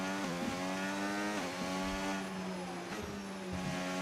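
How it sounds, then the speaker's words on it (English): F1 car engine in the video game F1 25, racing at Imola, droning steadily with layered harmonic tones and a few brief pitch dips and shifts suggesting an odd brrr roughness, loud and continuous. "Wait, what's happening with the engine? Listen."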